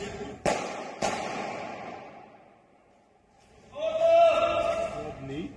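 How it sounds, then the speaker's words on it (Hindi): Two sharp, loud gunshots ring out in quick succession during the terror attack in Vienna, each trailing into reverberation, followed by a lull and then a shouting voice. "लोगों पर गोलियां बरसा रहा है"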